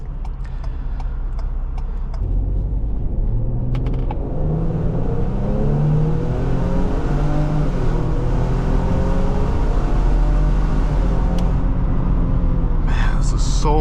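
A Ford Police Interceptor Utility SUV with a 400 hp EcoBoost engine drives along a road in state police service, its steady engine drone and road rumble loud and close throughout, with shifting engine pitch as it turns back.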